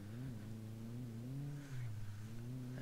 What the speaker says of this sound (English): And as we drive off-road here, you can really feel that there's not a lot of grip on this surface